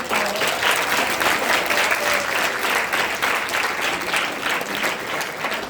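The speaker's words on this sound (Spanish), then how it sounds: "Un aplauso, por favor." An audience at a school ceremony breaks into sustained, dense applause, loud and even throughout with many hands clapping together.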